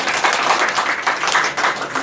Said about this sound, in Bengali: জোরে হাততালি একটা